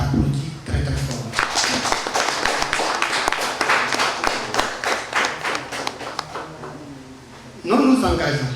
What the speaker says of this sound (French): son Excellence, Monsieur Anis Pépé, que je vous demande d'applaudir très très fort.